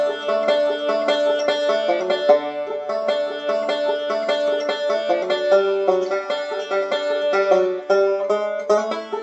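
Banjo backup in D for Man of Constant Sorrow moves through two measures each of the 4 and 5 chords, with dense, continuous picked rolls at a steady, even loudness, played alone and close up.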